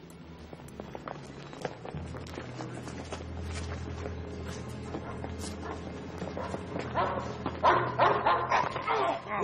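A dog barks and yips repeatedly in an indoor setting, with whimpers and footsteps mixed into a busy, cluttered background; the barking grows louder and denser toward the end.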